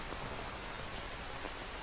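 Steady rain in the video game Metal Gear Solid 3 falls as a soft, even hiss of countless drops on surfaces, faint and unbroken with no voices.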